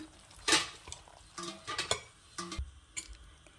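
Chopped nela basale greens being stirred into a spicy dosa batter in a bowl, with soft wet stirring and a few sharper scraping clinks in short bursts, close and fairly quiet with no talk.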